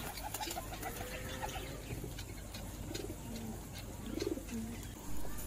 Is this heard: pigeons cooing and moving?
yes